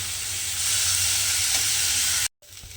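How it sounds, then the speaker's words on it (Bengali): Red lentils frying in a pan with onion, ginger and green chili, a steady loud sizzling hiss that swells slightly, then cuts out abruptly near the end before resuming faintly. "কিন্তু ডালটাকে একটু ভেজে নেব"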